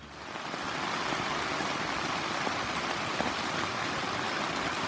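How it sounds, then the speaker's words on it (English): Heavy spring rain pours steadily at a campsite kitchen shelter in Gatlinburg, Tennessee, a dense, even hiss with faint scattered drips and no voices. "we've got some heavy rain here"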